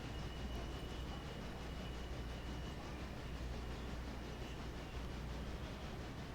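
Steady, continuous rumble of a train running in the video game Railroader, a constant low roar with faint rail noise and no distinct beats, heard alone at moderate level.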